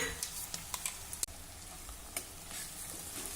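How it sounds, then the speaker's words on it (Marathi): Kharda chili paste and onion sizzling and frying in a pan, a steady close hiss with occasional light stirring clicks and scrapes throughout. "आणि हा खरडा देखील दोन मिनिटासाठी परतून घेऊ"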